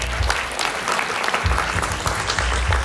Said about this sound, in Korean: 큰 박수로 여러분들 환영해 주시기 바랍니다.